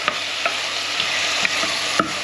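Vegetables frying in a pan, a steady loud sizzle with a few sharp clicks of stirring spaced through it, no talking.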